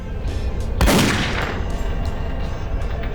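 Gunfire in the video game DOOM 3 or DOOM 2016, a sharp blast around one second standing out from a steady dense roar of game noise, loud and close.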